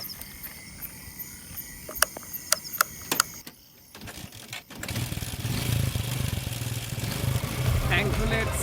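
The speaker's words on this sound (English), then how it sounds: "See, my bike won't start." A motorbike struggles to start: a few sharp clicks and cranking attempts, a short lull, then the engine catches and settles into a steady, fairly loud running drone.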